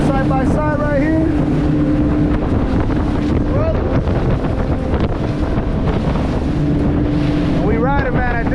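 A powerboat runs about 48 to 49 mph across big open-sea waves on a crossing from Bimini, with a loud, steady roar of engine, wind buffeting and rushing water, and people talking over it.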